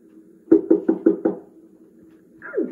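Knocking at a back door in a Christmas puppet show: five quick, evenly spaced raps, close and solid, followed by quiet and a short voiced sound near the end.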